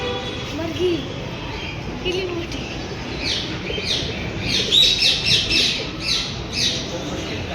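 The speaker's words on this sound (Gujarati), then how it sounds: "તો અહીંયા પોપટ આવેલા છે" Harsh, shrill parrot squawks burst out repeatedly, loudest in the second half, over background chatter and ambient noise at Rajkot's Sunday market.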